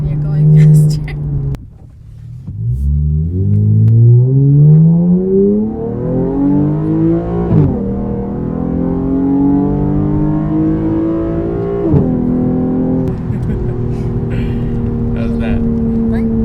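A Toyota Supra with a manual transmission accelerates hard. The engine note climbs steadily in pitch, drops back at two gear changes, then rises again, loud and close.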